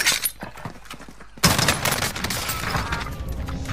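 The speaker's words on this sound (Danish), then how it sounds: "Jeg bliver i hvert fald skudt." Gunfire in the video game Warzone, a sudden loud burst of shots with sharp cracks and scattered debris-like clatter that continues after the first blast.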